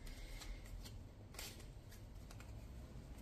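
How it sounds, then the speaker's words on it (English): Tarot cards are handled and shuffled close up, with quick soft riffling and papery flicks in short bursts over a quiet background. "Okay, we've got these other cards here. Let's get these."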